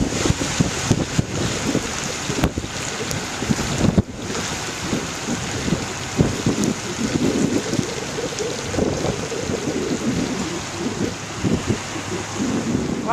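Loud, steady roar of the flooded White River in Sharon, Vermont, August 2011, with broadband rushing and gusty rumble, continuous throughout with no voices.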